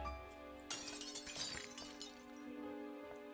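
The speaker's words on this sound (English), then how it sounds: "Heard glass breaking." Glass shatters suddenly in the Aria's Story video game, a sharp crash followed by tinkling shards settling over a quiet, humming background, no voices.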